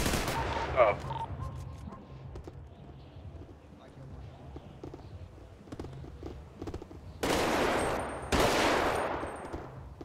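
Gunfire in a GTA RP shootout comes as scattered shots and then two louder sustained bursts near the end, under speech and wind-like background noise.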